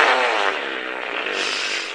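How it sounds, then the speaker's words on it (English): A fart sound effect in the horror video game Welcome Home, heard through a bathroom door as a steady, buzzy, sustained blast lasting about two seconds, alone with no talk. "Is that a fart?"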